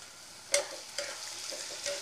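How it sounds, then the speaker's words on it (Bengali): Potato and tomato fry together in a pan with a steady soft sizzle, broken by a few sharper stirring scrapes, close by and alone. "আলু টমেটো একসঙ্গে দিয়ে ভাজবো।"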